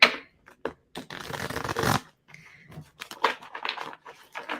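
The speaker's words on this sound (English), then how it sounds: "I need to shuffle the cards a bit better" Tarot cards are shuffled and riffled close by in quick, papery bursts separated by short pauses, with one long continuous riffle in the middle.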